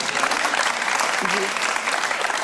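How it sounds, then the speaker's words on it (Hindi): A crowd claps steadily in dense, continuous applause, with a voice briefly audible beneath it. "तालियां बजाओ मेरे लिए"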